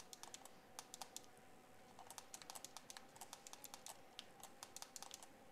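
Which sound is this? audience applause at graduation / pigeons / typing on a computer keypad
typing on a computer keypad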